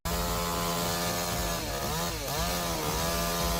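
A chainsaw cuts through logs at close range, its loud, steady engine snarl running without a break, with the pitch dipping briefly as the chain bites into the wood.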